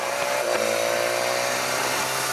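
A BMW S1000XR motorcycle engine drones steadily and loudly, its pitch falling slightly through a downshift made with the quick shifter, with a brief blip of throttle near the start.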